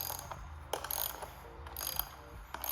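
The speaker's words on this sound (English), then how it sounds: "To take off these bolts, you're going to want a ratchet with a number 10 head on it." A ratchet fitted with a 10 mm socket loosens bolts on a Tesla Cybertruck during a light bar install, giving quiet, close clicking in short irregular bursts separated by brief pauses.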